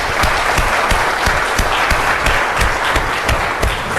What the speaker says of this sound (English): So let's give the foundation a round of applause.